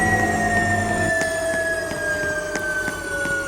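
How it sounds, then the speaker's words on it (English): Steady, loud aircraft drone inside the Cabin Crew video game, a continuous whining hum with sustained tones and faint periodic clicks, with no talking. "Yeah, that aircraft is too loud."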